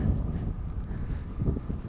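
Strong evening wind blusters across an open mountain wilderness in the High Uintas, a steady low rumble of gusts buffeting the microphone, with no voices.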